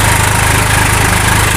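A tractor 855 engine pulling a loaded trolley during the maize harvest, a steady, loud, low diesel drone with an even throb and no voices.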